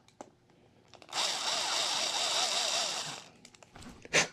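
A power drill runs slowly and steadily for about two seconds, a whining, grinding bore into a hex extender for a 1/14 scale RC car, with a few light knocks and taps before and after.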